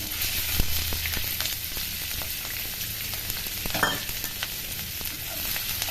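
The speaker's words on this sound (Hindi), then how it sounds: "प्याज को गोल्डन ब्राउन होने तक पकाएंगे" Sliced onions and green chillies frying in oil in a pan for a vegetable curry, giving a steady close hiss and sizzle with scattered pops and a brief stirring scrape near the middle.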